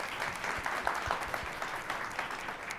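Audience applause at a Nevada Partners panel discussion, a steady moderate patter of many hands clapping, fairly quiet and diffuse, with a few low thumps underneath.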